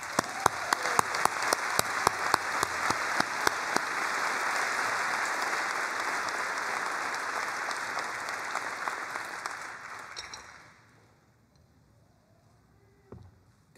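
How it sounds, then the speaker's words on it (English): Audience applause at a university graduation ceremony: a few sharp early claps swell into sustained, dense clapping from a large crowd that holds steady for about ten seconds, then fades out, followed by near silence. "Let's please give them a round of applause."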